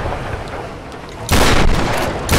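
A shotgun blasts in the Tomb Raider video game: two loud, heavy booms land about a second apart, each a broad, close burst of noise.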